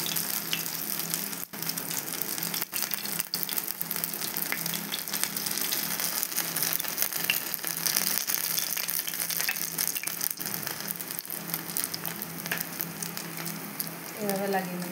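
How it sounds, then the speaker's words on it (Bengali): Dal bora fritters frying gently in a pan over low heat, a steady soft sizzle that runs the whole time with a few faint clicks and rattles, and no talking. "এবারে এখন আমি হালকা আঁচে আস্তে আস্তে করে ভাজবো।"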